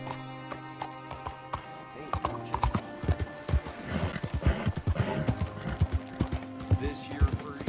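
Horse hooves clip-clop in a quickening gallop in Red Dead Redemption 2, loud and close, starting sparse and building into a rapid rhythmic pounding, with a brief whinny and a voice speaking over it.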